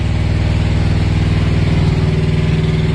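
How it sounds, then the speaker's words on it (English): A truck's onboard generator runs on the far side while the truck's own engine stays off, giving a steady, loud mechanical drone with an even low hum and no talking. "Now my generator started on the other side"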